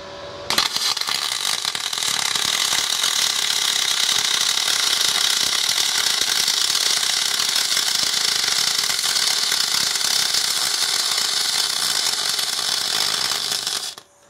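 A MIG spool gun welds a 4mm aluminium alloy T-joint with an R-Tech MIG180, giving a loud, close, steady crackling buzz that starts abruptly and holds for about thirteen seconds before cutting off.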